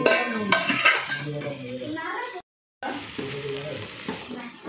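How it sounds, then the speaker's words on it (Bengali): Water goes into a hot pan of fish curry made with ground rohu and green tomatoes, and a soft hiss and sizzle carry on beneath a person speaking throughout. "এবারে আমি অল্প করে জল ঢেলে দিচ্ছি"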